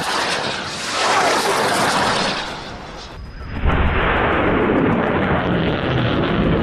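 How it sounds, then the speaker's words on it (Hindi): Several rockets fired together in a Gaza attack on Israeli forces near Rafah make a loud, continuous roaring rush that dips briefly, then surges again and keeps thundering to the end. "जिसमें कई रॉकेट्स एक साथ फायर होते हुए नजर आ रहे हैं।"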